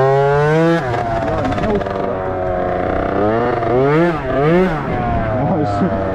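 A moped engine revs loud and close while being adjusted, its pitch rising and falling in repeated throttle blips over a sustained rough idle.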